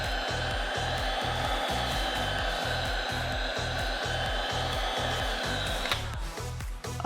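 Heat gun blows a steady, loud roaring hiss over vinyl wrap on a van panel, with a regular low pulsing beneath it and a brief shift near the end.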